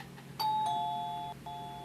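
A doorbell chimes with clear, sustained electronic tones: a two-note ding-dong followed by another ring, fairly faint in a quiet room.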